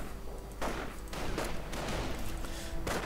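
Dense gunfire in a World War II strategy video game, overlapping cracks and rattling bursts with heavy thumps, loud and continuous with no gaps.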